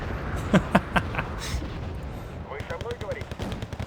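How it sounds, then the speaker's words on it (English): Grenade launcher fire in the video game Wargame Red Dragon, a few sharp thumping shots followed by a rattling burst of rapid impacts, with a voice talking over the battle. "They're having a grenade launcher match."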